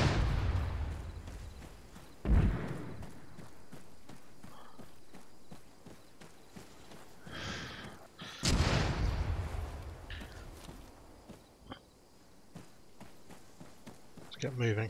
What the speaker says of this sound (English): Here we go again with the goddamn mortar.